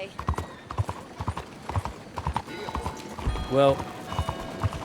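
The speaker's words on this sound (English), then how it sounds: "how the horse slows down to match the speed of anybody you're passing" Hooves clip-clop in a steady rhythm as a horse walks along in Red Dead Redemption 2, fairly close, with a brief horse snort or whinny and a voice speaking over it.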